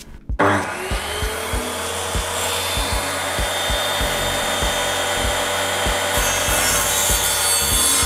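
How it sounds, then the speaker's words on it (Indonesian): Steady rasping sanding of corn cobs with a loud motor whine runs continuously, punctuated by regular rhythmic knocks about every third of a second as the cobs are cut. "Setelah kita amplas sesuai dengan besar kecilnya janggel itu sendiri, kemudian kita potong-potong."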